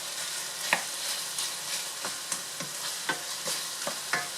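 Pork with seasoning sizzles steadily in a pan while a utensil stirs it in regular light scrapes and taps, close and without talk.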